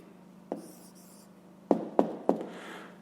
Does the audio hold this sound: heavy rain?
no